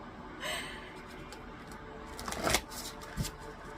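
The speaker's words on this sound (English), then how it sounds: "Let's give it a quick shuffle." Large oversized oracle cards shuffled by hand, a few soft papery riffles and slaps with a sharper flutter near the end, close and quiet with no talking.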